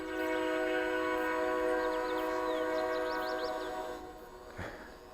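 A Champ S+ outdoor warning siren, just repaired, sounds a long sustained harmonic tone that holds for about four seconds and then fades, with a faint brief tonal blip near the end and light wind in the background.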